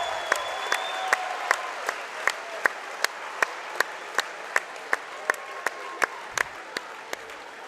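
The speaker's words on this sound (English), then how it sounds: "And we're all going to be clapping here." Crowd applause in a high school gym as a first-ever boys basketball district championship trophy is presented at Hicksville, steady clapping under sharp rhythmic claps from a few nearby people, with faint shouts in the background.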